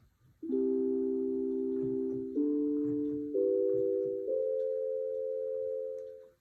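A clean electronic synth tone plays four sustained notes in a row, each stepping a little higher in pitch, over a faint background hum.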